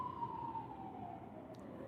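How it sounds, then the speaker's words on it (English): Emergency vehicle siren wailing outside, a faint steady tone sliding slowly downward as it passes at a distance, alone without any talk over it. "Pardon the sirens."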